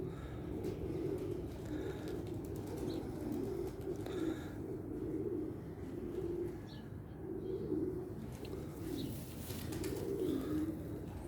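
A female pigeon coos repeatedly in soft, low, rolling calls, close by, against a constant background hum.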